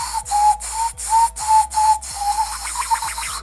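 A whistle made by pressing the tongue into a gap between the teeth and blowing outward, sounding as a run of short, bright pulses repeated in a steady rhythm, close and fairly loud, with a breathy hiss around each note.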